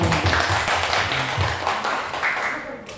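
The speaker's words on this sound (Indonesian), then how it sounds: "mari kita tepuk tangan untuk diri kita masing-masing." Participants at a teacher-training session on positive school culture clap for themselves, a dense, steady patter of hands lasting about three seconds, with voices mixed into the applause.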